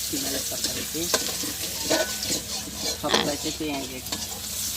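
Onions fry in oil in a pan for fish curry, giving a soft continuous sizzle under a repeated rhythmic scrape of a spoon stirring them.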